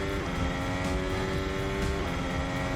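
Two Ferrari Formula 1 cars in a racing video game, their engines droning steadily at high revs with a continuous buzzing whine that shifts pitch slightly as they run, loud and close throughout.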